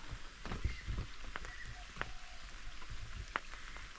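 Rain falls on surfaces beside a riverside house under an overcast sky, a faint steady patter with scattered louder drips.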